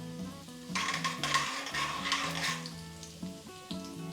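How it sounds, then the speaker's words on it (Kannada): Mustard seeds and cumin crackle in hot oil in a home kitchen while bisi bele bath is being made: a steady close sizzle with dense pops over faint tonal background sounds. "ಜೀರಿಗೆ ಸಾಸಿವೆ ಈಗ ಸ್ವಲ್ಪ ಚಟಪಟ ಅನ್ನಲಿ ಚೆನ್ನಾಗಿ."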